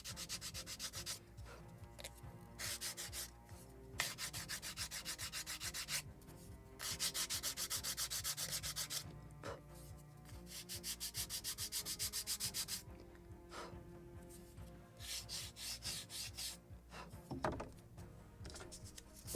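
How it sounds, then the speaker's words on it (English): Wooden planking on the hull of a Model Shipways gunboat Philadelphia (1776) kit is polished smooth with long, repeated rubbing and sanding strokes, close and fairly quiet, in alternating bursts and pauses. "Polishing, removing all these traces of tools to make it smooth."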